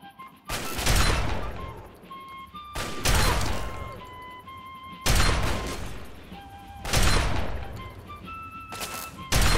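Gunfire in the video game Fallout 3 comes as four loud, sharp blasts spaced a couple of seconds apart, each decaying with a rumbling tail, with faint tonal game sounds in between.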